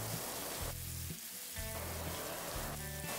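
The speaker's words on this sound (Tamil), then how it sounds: "எல்லாத்தையும் சேர்த்துட்டு வெங்காயம் வந்து கொஞ்ச நேரம் வதங்கட்டும்." Finely chopped large onions fry in oil in a pan for a groundnut kulambu, giving a steady, close sizzle throughout that briefly softens midway before returning at full strength, with no talking.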